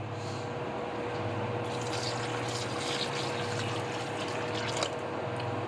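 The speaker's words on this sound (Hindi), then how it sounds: "इसके अंदर हम डालेंगे तकरीबन 2 गिलास पानी के" Water pours into a cooking pot for a beef koyla karahi in a steady, even rush of liquid with no talk over it.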